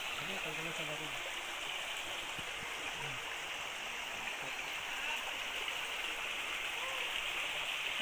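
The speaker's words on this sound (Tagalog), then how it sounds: "Flowing water." A farm stream's flowing water gives a steady, loud rush throughout, with faint speech-like sounds low in the mix early on.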